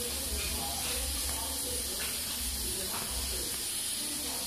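Free-range chicken cooking on a wood-burning stove gives off a loud, steady sizzle and hiss that runs without a break, with a low rumble underneath.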